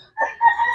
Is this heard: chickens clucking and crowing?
yes